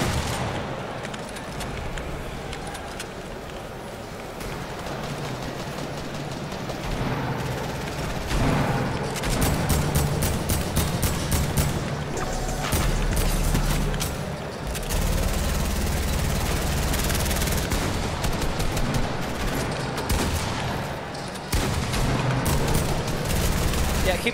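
Sustained video game gunfire, dense bursts of automatic fire and repeated shots with occasional booms, loud and continuous, with players talking over it at times.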